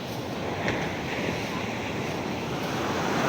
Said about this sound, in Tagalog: Sobrang nakakatakot yung alon.